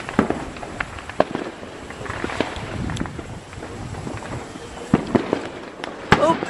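Fourth of July fireworks burst near a pond, with scattered sharp cracks and pops, some close and loud, others farther off, over wind noise and occasional voices.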